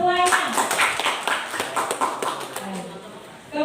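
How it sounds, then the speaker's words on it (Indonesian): Scattered hand clapping from a room of teachers at a training session, a loose burst of claps that thins out, with a voice speaking alongside. "Tepuk tangan untuk Bapak Ibu semuanya."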